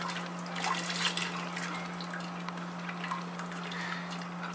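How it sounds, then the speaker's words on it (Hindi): Lentils tumble into simmering chicken stock in a cooking pot for shami kebabs, giving soft watery splashes and light drips against a constant low electrical hum. "इसमें अब मैं दाल ऐड कर दूंगी।"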